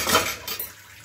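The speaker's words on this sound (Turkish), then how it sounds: "Bulaşıkların sesi, suyun sesi falan." Dishes, pots and cutlery clatter while dishes are washed under running water, a few quick clinks and knocks close by over a brief wash of water.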